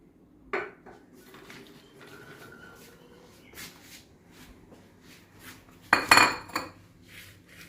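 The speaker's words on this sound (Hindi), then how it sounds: "तो सबसे पहले हम इसमें डालेंगे फालसा।" Fresh falsa berries are tipped into a jug, with a soft clatter of dishes and a louder rattling pour near the end, close and clear with no talking.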